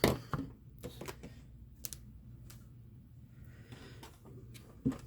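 A rotary cutter slices through quilting fabric along a ruler for a Sawtooth Star block, giving a few short, quiet cutting strokes and clicks at the start and end with light handling noises between, no talking.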